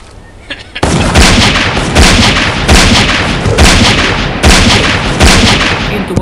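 Gunfire in the Westland Survival game, a series of loud booming shots at a steady, regular rhythm after a brief quiet start, heavy and close.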